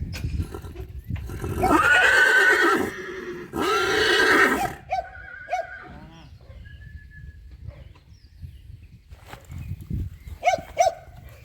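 A powerful stallion at a horse farm gives two loud, drawn-out neighs close by, followed by quieter stable sounds, snorts and a few faint background calls.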